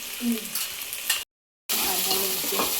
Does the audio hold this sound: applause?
no